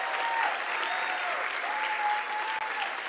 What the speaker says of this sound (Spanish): Y dale un fuerte aplauso.